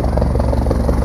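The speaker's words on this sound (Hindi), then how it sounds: "ये आपको लैंड होता हुआ अभी हेलीकॉप्टर जो दिखाई दे रहा है" A helicopter comes in to land at a veterinary science university campus in Mathura with a loud, close, steady rotor thump and engine roar that holds constant throughout.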